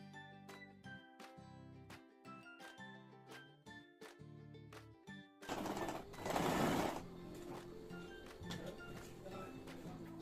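A sewing machine stitches the side seam of an anarkali dress made from a reused saree, a loud burst of stitching standing out from a steady rhythmic background, then settling into a softer whirring run.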